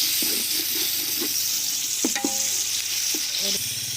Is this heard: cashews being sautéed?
yes